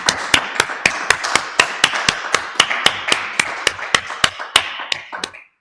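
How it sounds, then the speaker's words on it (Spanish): One person at a seminar round table claps slowly and steadily, about fifteen sharp, evenly spaced claps close to the microphone that fade out at the end. No crowd applause and no talking. "Bueno, pues un aplauso, ¿no?"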